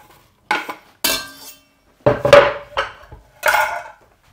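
Chopped onions tumble into a cooking pan for a goulash-style dish, a few separate clattering, clinking bursts of utensil against pan with short quiet gaps between them, close and fairly loud, no talking.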